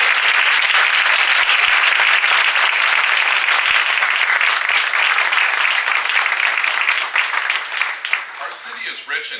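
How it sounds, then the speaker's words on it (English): A crowd at the official opening of the City of Ottawa Archives Building breaks into sustained, dense applause, loud and steady throughout before thinning slightly at the end, with some voices mixed in. "please give a big round of applause to the friends of both these things"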